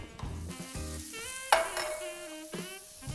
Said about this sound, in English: my pan is smoking hot, as you can see. Mushrooms in.